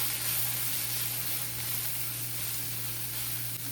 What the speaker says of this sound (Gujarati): આપણો મસાલો શેકાઈ ગયો